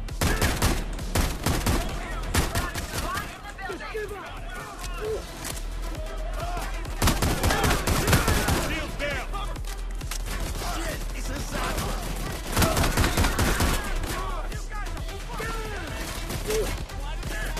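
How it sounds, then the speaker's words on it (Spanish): Repeated shotgun blasts in the heist game Payday 2 boom out in dense, irregular bursts across the whole stretch, with voices talking over the gunfire. "Una fucking masacre con esta escopeta."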